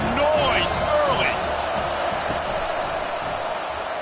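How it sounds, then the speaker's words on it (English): Loud, steady roar of a packed college football stadium crowd during Florida at Tennessee, a dense wash of cheering and noise with brief whistles rising above it throughout. "This crowd bringing the energy and noise early."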